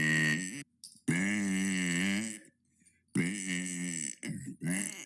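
Long, loud, croaky burps close to the mic, each drawn out with a grunting, groaning quality, three or four in sequence with short pauses between; no talking.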